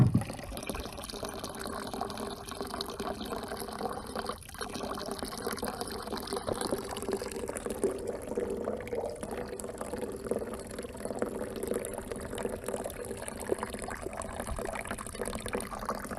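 Water runs through PVC and corrugated drainage pipes, carrying a bottle and a little debris, making a steady, continuous rushing and gurgling flow at moderate loudness throughout.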